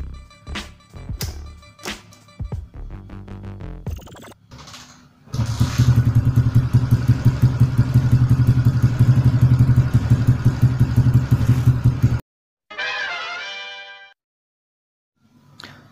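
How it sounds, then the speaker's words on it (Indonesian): A few clicks and clatter, then a Yamaha LC135 motorcycle engine starts and runs steadily, chugging loudly for several seconds before cutting off. "lepas tu kita akan hidupkan motor."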